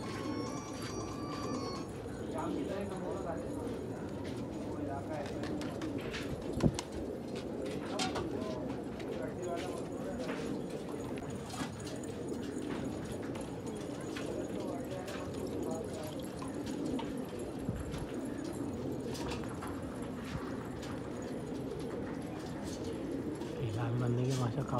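Pakistani desi pigeons coo on a rooftop loft amid busy ambient noise, soft low coos blending with rustling and occasional clatter while someone talks intermittently.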